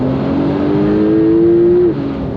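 An 800 hp supercar, one of only 87 built, accelerating hard from inside the cabin, its engine note rising steadily in a loud continuous pull before dropping sharply at a gear change.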